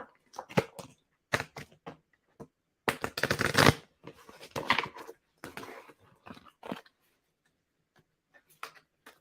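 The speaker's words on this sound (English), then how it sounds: "I'm just going to give them another little shuffle." A deck of tarot cards is shuffled in short riffling bursts, close and fairly quiet, with brief pauses and light taps between them.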